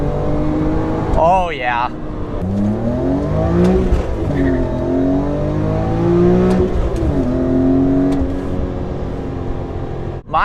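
A BMW E39 M5 with an ESS VT560 supercharger kit (560 horsepower) drops into third and pulls hard, its engine note climbing repeatedly through the gears, loud and close, with someone briefly speaking.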